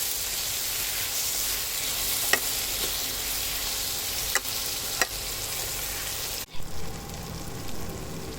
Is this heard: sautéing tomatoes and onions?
yes